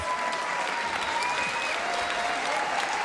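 Steady applause from a crowd at a political State of the District event, dense clapping at an even level throughout with no pauses or voices standing out.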